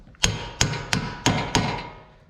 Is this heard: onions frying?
no